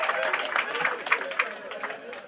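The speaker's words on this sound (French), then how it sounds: "Applaudissons donc pour eux" A village crowd in Bankoh claps rhythmically during the sub-prefect of Bafang's visit, steady pulsing clapping with murmuring voices mixed in, moderately distant.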